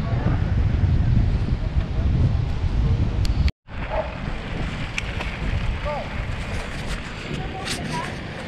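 Strong wind at a beach in Florianópolis buffets the microphone in a loud, continuous roar over rough surf. The roar briefly cuts out, and a voice is faintly present.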